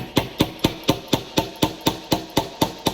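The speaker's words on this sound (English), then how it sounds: "You're going to hammer those nails from that top piece into the bottom piece." Steady hammering of nails into a small wooden recycling truck model, about a dozen evenly spaced, sharp close-up blows at a brisk regular rhythm, with no talking.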